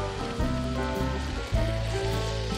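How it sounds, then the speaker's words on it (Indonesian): Ground spice paste sautéing in leftover oil from frying fish, a steady close sizzle and crackle throughout with a brief surge of hissing partway as the paste hits or is stirred. "Selanjutnya kita tumis bumbu halusnya, ini saya memakai minyak bekas goreng ikan tadi"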